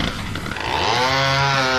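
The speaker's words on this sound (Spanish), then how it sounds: "Es la hostia porque la motosierra tampoco falta a la cita" A DOOM video game chainsaw revs up, its engine whine climbing into a loud, steady buzzing snarl that fills the short burst, close and harsh with no speech.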